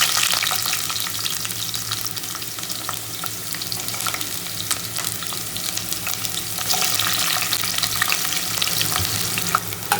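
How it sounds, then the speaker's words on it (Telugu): Roughly chopped onions and masala fry in a pan as a loud, continuous sizzle, with scattered crackles and stirring scrapes throughout. No voices. "ఎప్పుడైనా మసాలాని పెద్దగా కోసుకున్న ఆనియన్స్ అయితే దీంట్లో వేసి ఫ్రై చేసుకుందాం."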